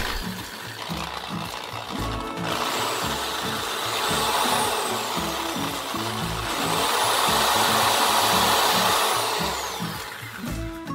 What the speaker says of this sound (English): I'm just going to use this small drill bit to drill away some of the plastic from around the pin.